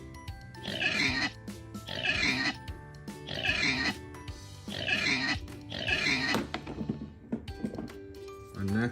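A pig from a toy animal-sound learning set grunts and oinks in about five loud, rhythmic bursts, close up, with no talking.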